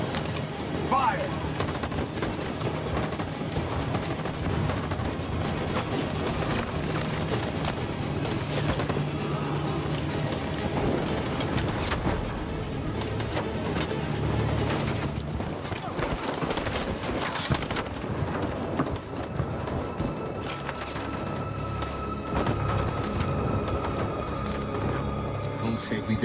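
Sustained gunfire from Detroit: Become Human, dense bursts of shots and automatic fire running throughout at steady loudness, mixed with battle noise and voices shouting.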